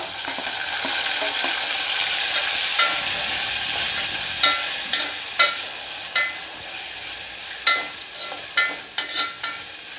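Chopped tomato fries in an onion tempering for Udupi-style sambar, with a continuous close sizzle broken by repeated sharp scraping bursts of a spoon stirring against the pan.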